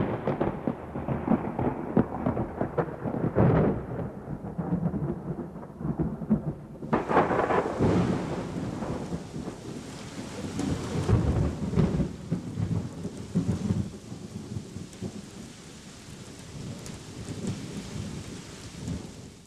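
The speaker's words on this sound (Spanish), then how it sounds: "esa tarde Dios envió una tormenta que acabó con la sequía" Heavy thunderstorm with rolling thunder rumbles and steady rain, loud and continuous, a big crack of thunder hitting midway before the downpour carries on alone.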